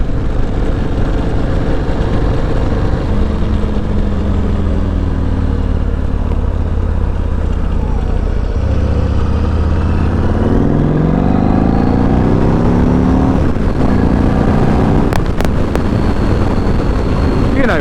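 Yamaha MT01 motorcycle engine revving loudly and close, a deep steady rumble that climbs in pitch through rising revs toward the end, with wind buffeting over the microphone.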